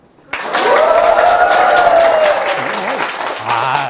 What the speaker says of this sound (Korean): 그냥 박수가 아니고 함성과 같이 치는 박수예요